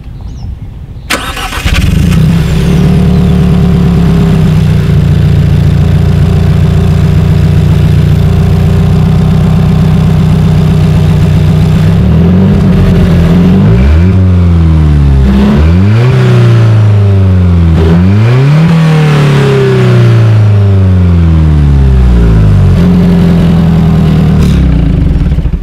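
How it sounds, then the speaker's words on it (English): A 2019 Alfa Romeo 4C Spider, a mid-engine car with chrome exhaust tips, starts up and settles into a loud, close idle, then gives several sharp revs that rise and fall before dropping back to idle. "As always, here is that exhaust clip."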